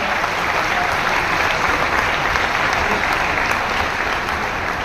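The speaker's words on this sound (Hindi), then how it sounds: "तालियों में ओज और ऊर्जा उत्साह के साथ" Loud, sustained applause from a large crowd at a nursing officers' appointment letter ceremony in Delhi, dense continuous clapping filling the whole stretch without a break.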